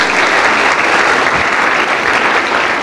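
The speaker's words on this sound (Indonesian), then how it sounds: "ya boleh beri tepuk tangan" An Indonesian church congregation applauds after a group prayer, with steady, full clapping from many hands that stays evenly loud throughout.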